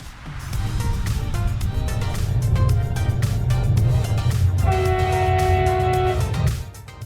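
A Bulgarian InterCity train departing Plovdiv station rumbles steadily with low engine drone and rail noise, a sustained tonal whine rising toward the end before fading.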